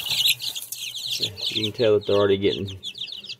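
Two-week-old barnyard mix chicks in a brooder give high, busy chirps and peeps throughout, close by and fairly loud, with a person talking over them in the middle.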